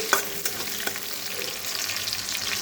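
Green chillies fry in hot oil in a home kitchen, crackling with a dense, bright sizzle. A few sharp pops and stirring clatters rise close by, with no one talking.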